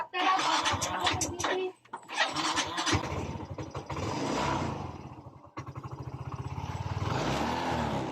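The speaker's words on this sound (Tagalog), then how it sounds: "umandar kanyang motor pero kahit anong birit ng kahit anong birit ng kanyang silinyador ay ayaw pa rin umikot ang kanyang gulong" A Yamaha Mio Soul i 125 scooter, whose rear wheel will not turn, starts and runs with repeated throttle revs rising and falling, close and loud, with brief pauses between bursts.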